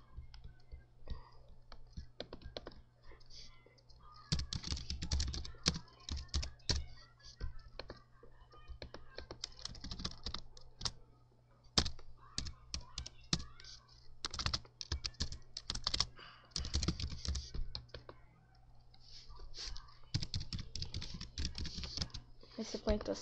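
Rapid clicking keystrokes on a computer keyboard as a password is entered, close and crisp in uneven bursts with short pauses, and a voice talking at times over them.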